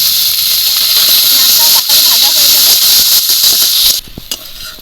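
Chopped onions with salt fry in hot oil, giving a loud, steady sizzling hiss that carries on for several seconds before dropping off sharply near the end.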